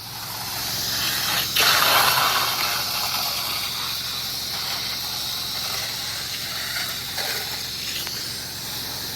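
A roof-washing soft-wash machine, a MoFlow unit, sprays with its throttle turned up, giving a steady, loud hissing rush of pressurized spray that runs continuously with a brief surge near the start and no talking.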